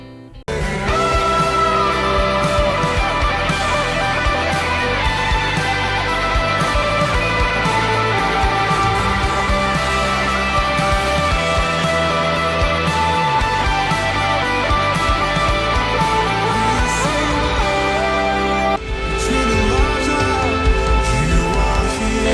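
Guitar preset patches play back as a continuous run of dense, layered electric guitar tones with chords and sustained notes, loud and steady, with a brief break near the end before another sound starts.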